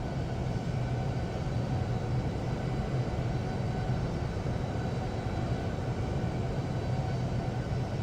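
A simulated airliner taking off from Newark in the Infinite Flight game gives a constant, loud engine roar with heavy low rumble that holds steady throughout, with no talk.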